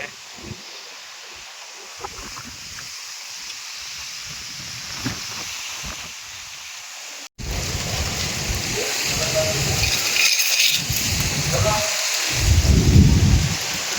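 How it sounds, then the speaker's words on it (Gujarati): A sudden storm with rain and thunder: a steady rain hiss that jumps sharply louder partway through, with deep rolling rumbles swelling toward the end. "વરસાદ ચાલુ થઈ ગયો."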